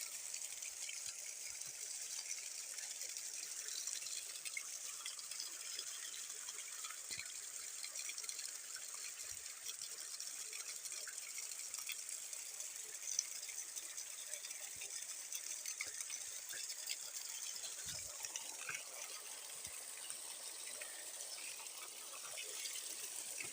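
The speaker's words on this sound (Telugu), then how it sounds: "ఓ ఇక్కడ వాటర్ నీరు వస్తున్నాయి ఫ్రెండ్స్, చూడండి పద." Water flowing outdoors near a village, a steady broadband rush running continuously at a moderate, even level throughout with no talk over it.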